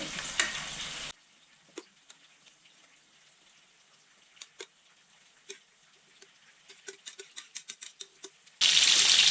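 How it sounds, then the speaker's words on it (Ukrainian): Meat frying in a pan, a quiet sizzle with scattered soft ticks and spatters, framed by short louder bursts at the start and end. "Поки м'ясо смажується"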